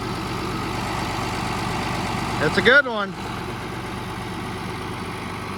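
A White 2-150 tractor engine idles steadily with a low, even rumble throughout, while a person speaks briefly over it near the middle.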